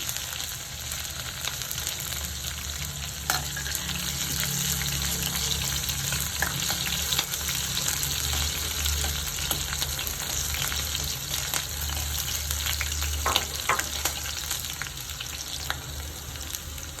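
Curry leaves, green chillies and garlic fry in hot oil for an onion chutney, giving a steady, loud sizzle throughout with occasional stirring clicks and no talking.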